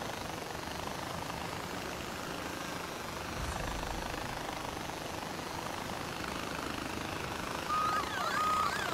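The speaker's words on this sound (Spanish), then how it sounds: "ir con un helicóptero pues tampoco viene mal" A helicopter in the video game Far Cry 4 flies with a steady, continuous rotor and engine drone throughout, fairly loud and constant with no talk over it.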